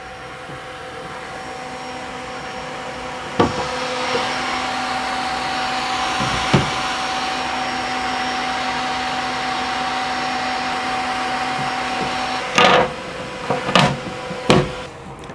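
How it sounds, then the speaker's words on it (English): Creality K1 3D printer cooling fans running at full speed, a loud steady whine and rush with faint tonal hum, broken by a few sharp clicks and knocks near the end. "once you get past those first couple layers on your first print or whatever you're actually printing, all of those fans kick on"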